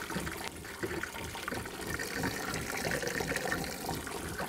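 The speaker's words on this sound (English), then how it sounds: "So I'm just gonna run the bleach water through the line." Bleach-laced water runs through a campervan's water lines and out a tap, a steady close rushing gush that stays even throughout with no talking.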